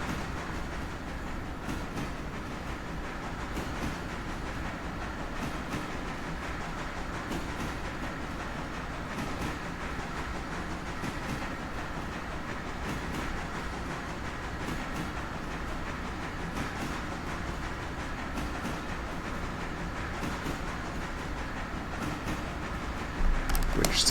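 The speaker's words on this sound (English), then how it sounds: "run the passenger train" A three-car passenger train running on rails in the Railroader simulator game, with continuous rolling rumble and rhythmic wheel clatter for the whole stretch, steady and moderately distant, with no talking.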